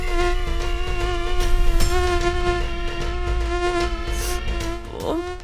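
Steady insect-like buzzing, read as mosquitoes around a woman seated in a wheelchair, holds a sustained hum with strong harmonics close by for several seconds, with no talk over it.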